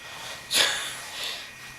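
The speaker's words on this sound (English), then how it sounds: "you haven't stopped sneezing" A pet sneezes once indoors near a heater, a single sharp close burst followed by a softer second puff of breath.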